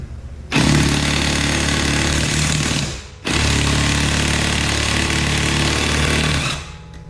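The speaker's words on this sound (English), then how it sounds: "this is just testing the impact strength you know, with properly torqued lug nut" Milwaukee 2767-20 half-inch impact wrench hammering on a properly torqued lug nut: two long, loud, steady bursts of rapid impacts separated by a brief gap, very close with no talking.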